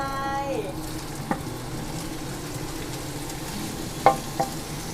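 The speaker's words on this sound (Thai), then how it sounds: "ใส่ไก่ลไป" Chicken being stir-fried with holy basil in a steel wok gives a steady, moderate sizzle throughout, with a couple of sharp spatula clinks against the pan near the end.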